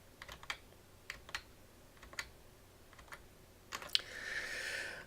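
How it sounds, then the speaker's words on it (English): A single computer keyboard key is pressed repeatedly in 3D modelling software: light, quiet clicks at irregular intervals, several taps with short gaps, closing with a brief soft hiss. "just press B on the keyboard and keep pressing"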